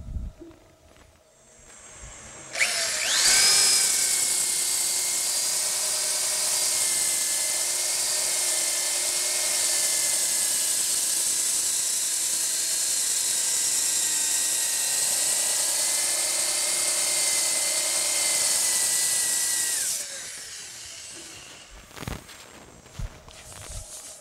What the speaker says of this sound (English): we can rotate the lathe